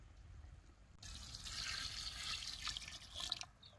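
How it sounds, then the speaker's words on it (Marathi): Heated water pours in a steady, splashy stream into a chicken cooking pot outdoors in a field for a few seconds, faint and close, then stops with a last trickle. "आता हेच पाणी यात वतायचं"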